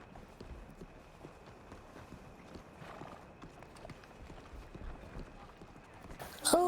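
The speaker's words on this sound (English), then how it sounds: "Oh, Eustace, there's a horse." Horse hooves clip-clopping in a video game set in Saint Denis, faint rhythmic hoof steps under quiet background and speech, growing louder near the end.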